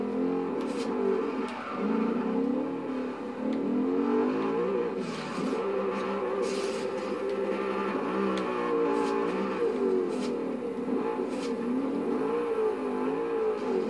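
An Audi's engine revs and drones continuously in the Forza Horizon 2 racing game, its pitch rising and falling with gear changes over a steady, loud stretch and joined by brief bursts of higher noise.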